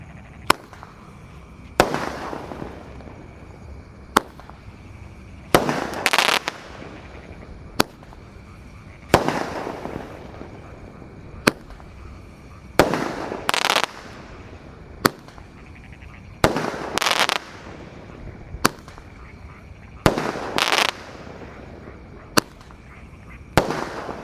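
Basoka Roman Candle fireworks fired at night during Ramadan: sharp launch pops and crackling bursts go off in an irregular series, about a dozen shots, each loud and sudden, with faint voices in between.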